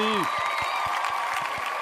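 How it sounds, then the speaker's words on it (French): A small group on a French gaming-awards podcast show gives a few scattered, evenly spaced claps for a guest, set against a sustained tonal hum and a brief sliding tone at the start. "On applaudit Pierre Charnia."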